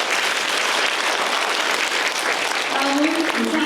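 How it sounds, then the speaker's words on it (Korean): Crowd at a citizens' town hall meeting in Ulju-gun, Ulsan, applauding with a loud, continuous wash of clapping; a voice begins speaking near the end as the applause carries on. "박수 부탁드리겠습니다"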